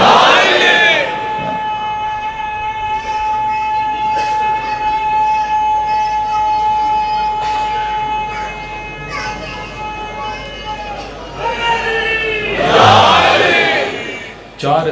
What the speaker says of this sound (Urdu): اتنے لمبے نعرے لگے تو مجلس کا ٹائم تو گیا میرا